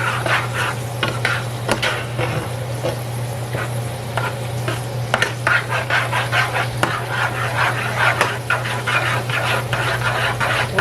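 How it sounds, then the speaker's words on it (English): A spoon stirs milk into melting cheese in a hot pan, giving a continuous rhythm of scraping strokes and light clinks over a steady sizzle and low hum, close and loud, with no voices. "We're going to go ahead and stir that."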